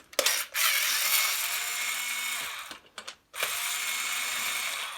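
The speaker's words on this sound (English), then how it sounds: "Charged my screw gun, obviously, but it'll work anyway" Cordless screw gun whirring in two bursts, separated by a short pause and clicks, used while repairing the seat connection struts on a Bugaboo Buffalo stroller chassis; close and fairly quiet, with no talking.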